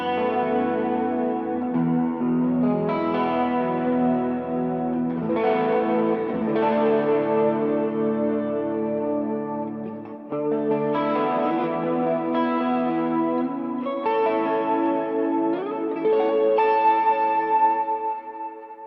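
Electric guitar lead tone with overdrive from a Quad Cortex, sustained melodic notes with effects and echo, played loud and continuous with a short pause midway, no talking.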